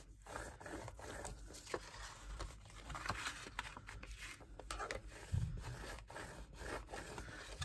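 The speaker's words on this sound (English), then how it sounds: "it is best to burnish your score lines" Score lines on paper for a Christmas gift box are burnished by hand: quiet, close rubbing strokes repeat in an irregular rhythm, with soft scraping friction and no voices.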